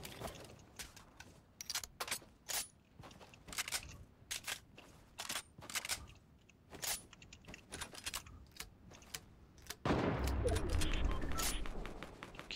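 Video game gunfire comes as a series of sharp, clicky shots in short bursts, faint and irregular, followed by a louder, sustained rumbling blast near the end.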